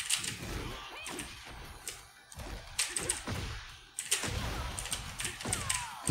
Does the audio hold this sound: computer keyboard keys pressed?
yes